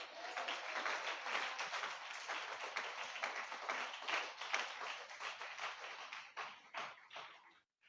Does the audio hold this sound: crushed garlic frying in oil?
no